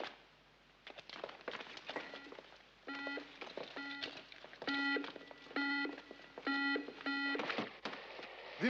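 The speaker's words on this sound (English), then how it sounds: "The main safe alarm has just gone on." A main safe alarm sounds in a movie scene, a loud electronic alarm of repeated pulsing tonal beeps in regular bursts, with scattered clatter and bangs between them.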